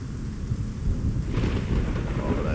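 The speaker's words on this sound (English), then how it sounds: "There's tons of lightning just crashing down all around us." Thunder rumbles low and continuous from a severe thunderstorm with lightning striking nearby, heavy and close throughout, with a brighter crackle rising midway, steady rain hissing underneath, and no talk.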